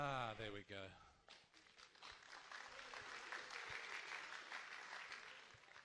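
Spectators clap at a bridge match in the Italy vs Netherlands Bermuda Bowl 2011 semifinal: a brief voice opens, then a steady spread of applause follows, moderately loud and sustained to the end.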